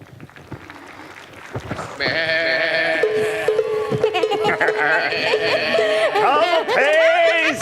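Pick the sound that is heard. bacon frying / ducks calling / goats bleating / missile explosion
goats bleating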